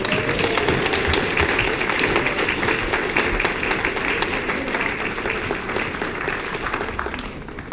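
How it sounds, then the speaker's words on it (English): A full audience gives a centennial commemoration of a war one more round of applause, a sustained wash of clapping at even strength that thins slightly toward the end. "Can we give them one more round of applause?"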